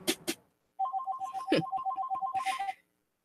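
An incoming call's electronic ringtone repeats as a rapid, even warbling pattern of beeps for about two seconds, loud and close, after a brief burst of voices at the start.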